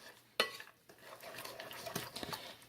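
Pork chop stuffing casserole mixture being stirred, opening with one sharp clack of a utensil, then soft, irregular scraping and clinking of mixing, quiet and close.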